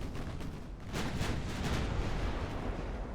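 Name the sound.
torpedoes hitting ships in Ultimate Admiral: Dreadnoughts video game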